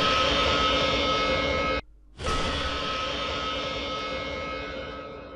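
Jumpscare from the horror video game Five Nights at Candy's for Old Candy and Blank, a loud, roaring static-like screech that cuts out for a split second, then returns and slowly fades over several seconds, heard alone.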